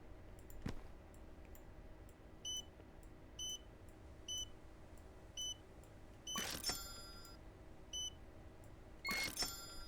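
Checkout scanner beeps ring out in Alien Market Simulator as items are rung up: short, high electronic bleeps repeat at a fairly even pace over a low room hum, with two louder clattering bursts near the end.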